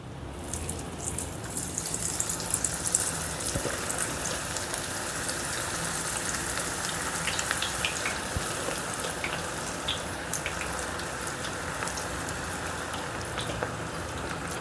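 Onion pakodi frying in oil on a medium flame, a steady dense crackle and sizzle with scattered sharper pops, close and continuous.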